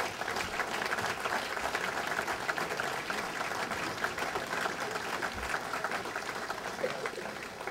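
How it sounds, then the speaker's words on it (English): Audience applause at a gathering honoring mothers with a state senator, a continuous, even patter of many hands heard from a distance and fairly faint, lasting nearly eight seconds. "Let us applaud his success in this country."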